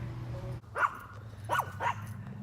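A dog barks three times outdoors on a sunny downtown morning, sharp mid-range yaps spaced about a second apart over a low steady street hum, fairly close.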